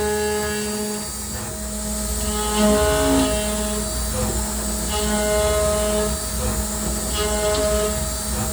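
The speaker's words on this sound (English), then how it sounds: "This video shows a 4-axis test cut and Delrin on my MR-1." A CNC mill whines steadily as it cuts Delrin plastic in a 4-axis test cut, with sustained machine tones and a constant mechanical hum throughout.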